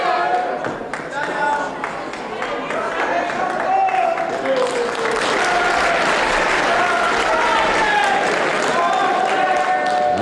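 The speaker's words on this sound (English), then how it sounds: "I think the applause there is not for this man, mostly for Dave Bond" A 1970s UK wrestling crowd claps and cheers through the hall, building from a patchy start into a sustained roar, with a commentator talking over it.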